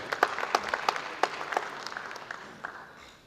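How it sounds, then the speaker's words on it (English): Applause at a public sector audit awards ceremony, a fairly faint spread of claps with a few sharper individual hits near the start that thin out and fade. "A round of applause for Seke Teachers College."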